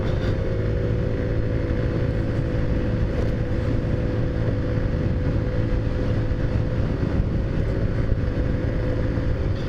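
A Taotao Zummer scooter engine runs under steady throttle while riding, a continuous buzzing drone with wind noise, loud and close throughout with no pauses.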